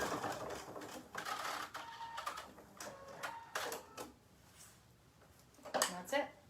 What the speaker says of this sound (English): So on my machine, I just push the start button and it'll make the tack for me.